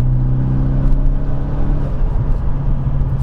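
A turbocharged, forged 330 bhp Renault Megane R26 pulls hard in fourth gear, its engine droning steadily with a deep continuous hum and rising turbo whir, loud and close from inside the cabin.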